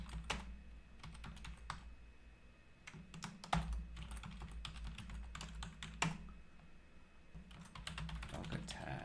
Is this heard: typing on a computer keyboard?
yes